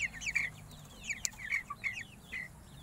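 Broiler chickens on a farm, about 45 days old, cluck and chirp in short, overlapping calls from nearby, with one sharper squawk. No voices are heard.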